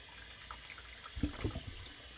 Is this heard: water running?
yes